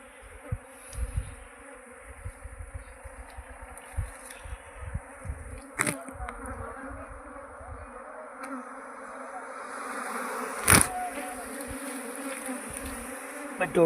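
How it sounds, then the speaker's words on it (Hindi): A honeybee swarm gathering at a hive box hums as a steady dense buzz throughout, with a few sharp clicks and nearby handling noises. "ये मधुमक्खी वहाँ जमा हो रही है।"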